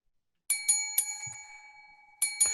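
A doorbell rings at the front door in a staged Christmas Carol reading, two clear bright chimes with ringing partials, a pause with a faint low knock, then two more chimes near the end.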